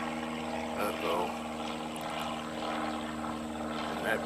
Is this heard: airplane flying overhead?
yes